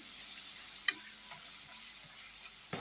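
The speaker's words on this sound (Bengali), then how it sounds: "আগে মশলাটাকে ভালো করে কষে নিচ্ছি" Ground spices (ginger, coriander, cumin, chili and turmeric) sauté in oil for a cabbage curry, making a faint, steady sizzle with a couple of soft utensil taps against the pan.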